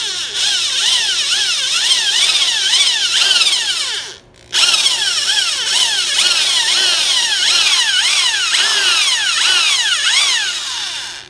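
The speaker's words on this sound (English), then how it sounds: "I'm just going to take my step-up bit here and drill that out a little bit there" A step drill bit grinds steadily through metal on a Jeep Wrangler JK while fitting an electric winch, with a high, whining bite that rises and falls in repeated cycles, pausing briefly once before resuming.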